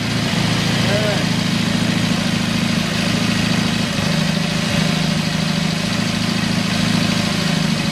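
An old Douglas motorcycle engine runs steadily at idle, a continuous low rumble with a knocking pulse that stays close and loud the whole time, with faint voices in the background.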